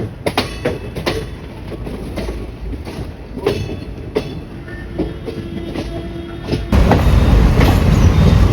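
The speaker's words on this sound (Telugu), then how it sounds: "ట్రైన్ అయితే వెళ్తుంది." A train rolls past with rhythmic clickety-clack of wheels over rail joints, growing louder into a heavy rumble at the end.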